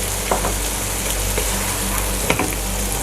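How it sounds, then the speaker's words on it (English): Onions, prawns, grated garlic and chopped green chillies sauté loudly in a pan, a dense constant sizzle broken by a few brief scrapes of a spoon, with no voices. "The onions and the prawns and the garlic have sauteed well."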